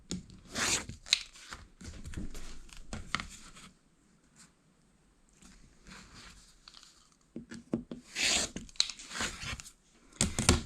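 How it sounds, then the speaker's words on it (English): Scissors cut quilting fabric along drawn diagonal lines to make half-square triangles, giving close, crisp snipping and rustling in two bursts separated by a quieter pause, with no talk. "and then cut on the lines"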